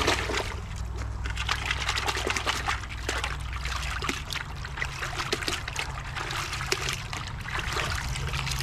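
A field-dressed, skinned rabbit is placed in a bucket of water, and a continuous soft trickle and slosh of water plays close by with no speech.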